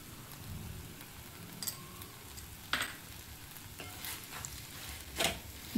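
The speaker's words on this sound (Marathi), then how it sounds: "आता हे छान परतून झालंय, सगळं व्यवस्थित मऊ झालंय, कांदा टोमॅटो शिजलंय।" Chopped onion and tomato sautéing for chutney in a pan, a soft steady sizzle with occasional scraping stirs and clinks of a spoon, no talking.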